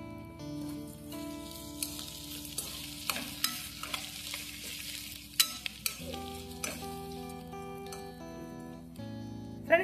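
Urad dal and asafoetida frying in a pan for a drumstick leaves thuvayal, with a soft continuous sizzle and repeated scraping stirs and clinks of a spatula, close but fairly quiet.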